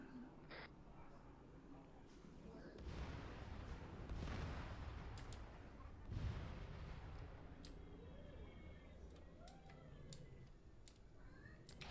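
Artillery and gunfire in Arma 3 come as a faint, rumbling mix of distant booms and scattered shots. Voices speak over it, and a few sharp cracks break through toward the end.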